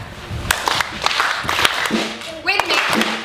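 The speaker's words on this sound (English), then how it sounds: "We've taught you to clap in time." Pantomime audience members clap in time, scattered fairly loud claps mixed with crowd noise and a voice speaking partway through.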